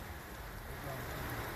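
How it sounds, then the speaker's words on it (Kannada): Heavy evening rain in Bengaluru, a faint, continuous distant hiss of downpour without any voices. "ಬೆಂಗಳೂರಲ್ಲಿ ಸಂಜೆ ಆಗ್ತಿದ್ದಂತೆ ಸುರಿದ ಮಳೆಯ ದೃಶ್ಯಗಳಿದು"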